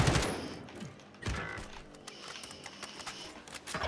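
Gunfire in the video game Warzone, a series of sharp bursts and rapid shots at varying distance, some loud and close, others quieter, with mechanical clatter between them.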